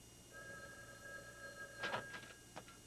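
A telephone rings indoors in a sitcom scene, a thin electronic ring heard faintly and briefly with a couple of soft knocks, no talk.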